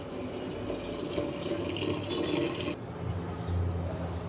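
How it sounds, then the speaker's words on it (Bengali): Running tap water splashing steadily into a sink as jute leaves are washed under it, a close continuous rush that thins slightly partway through. "তো পাট শাকটা এখন আমি ধুয়ে নেব"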